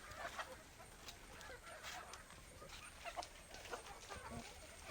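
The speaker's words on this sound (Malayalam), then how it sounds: "ഇതാണ് നമ്മുടെ നാടൻ കോഴി" Native village chickens, hens and a rooster, cluck softly and intermittently in a yard, faint and somewhat distant, with scattered short calls over a quiet outdoor background.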